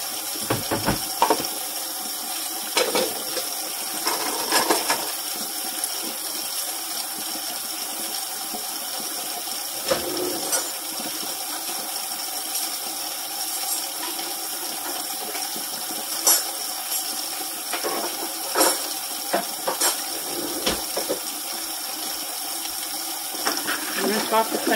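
Hot tap water runs steadily while dishes are washed by hand in a home kitchen, a continuous hiss punctuated by scattered clinks and knocks of dishware.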